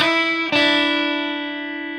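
A phrase from a song's intro riff on electric guitar, one ringing note re-struck about halfway through and left to sustain and fade, played close with no voices.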